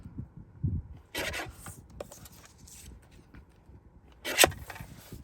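Calendar paper being trimmed for card making, heard as close, quiet rubbing and rasping cuts in short bursts, with a louder scrape near the end.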